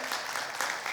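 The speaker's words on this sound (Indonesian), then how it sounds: "Berikan tepuk tangan yang meriah." Steady crowd applause at a Sunday church service, dense and even clapping throughout a short burst, with no voices standing out.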